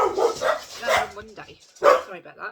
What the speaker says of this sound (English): So sorry about the barking about that.